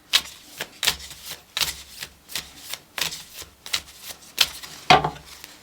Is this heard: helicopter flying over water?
no